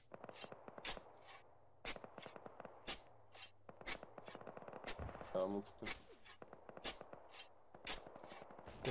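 Gunfire in the military game Arma 3, a stray shot plus scattered rapid sharp cracks spread across the clip, with a brief burst near the middle, under ongoing radio-style voice chat.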